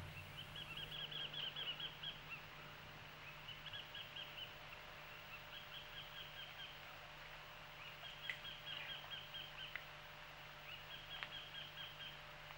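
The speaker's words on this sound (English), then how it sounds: "it is actually the territorial call of one of the most prolific of bird species in the world, the white collared kingfisher" A white-collared kingfisher gives a territorial call in the mangroves, a series of faint, thin, repeated chirps over a steady low hum of background noise.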